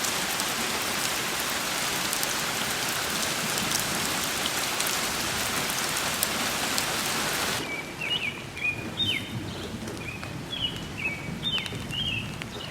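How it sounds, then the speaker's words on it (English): Steady, dense rain pours down, then eases to a lighter patter with birds chirping faintly in the background. "The plants love the rain."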